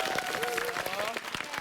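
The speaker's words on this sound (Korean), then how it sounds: "우리 큰 박수 한번." Studio audience on a Korean TV talk show claps in a brief, dense burst of applause while a voice carries over it.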